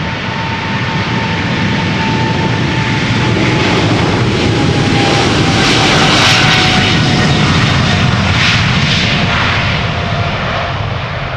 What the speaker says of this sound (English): KLM flight 635 to Las Vegas, 777-300 the PHB-VV.